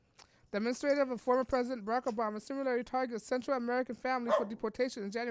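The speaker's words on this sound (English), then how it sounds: "that's my dog." A dog barks in the background beneath a steady stream of a narrator's speech, its bark mostly buried under the talking.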